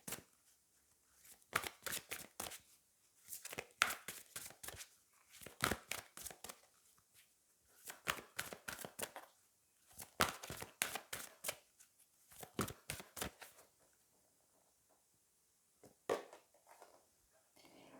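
Angel oracle cards are shuffled by hand in repeated quick riffling bursts, close and crisp, separated by short pauses.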